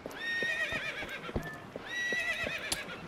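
A horse in the video game Zelda: Twilight Princess gives two drawn-out whinnies while its hooves clip-clop unevenly underneath, close and clear with no talking.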